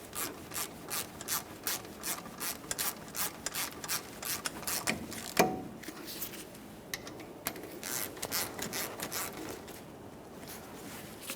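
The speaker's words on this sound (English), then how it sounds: "Once they're both started in, snug them up and torque those to 25 foot-pounds." A ratchet snugging the caliper slider mounting bolts on a 2004-2008 Ford F-150 front brake, a fast run of evenly spaced clicks, close and moderately loud, then a sharper click and some softer rubbing.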